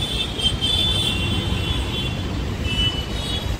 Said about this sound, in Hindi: ट्रैफिक देखिए गाइस